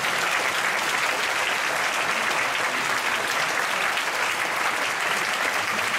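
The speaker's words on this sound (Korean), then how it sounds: "우리 선교사님들을 위해서 한번 큰 박수를 격려하겠습니다" Dense, steady applause from a large church congregation at a Friday night worship service, loud and continuous throughout with no pauses.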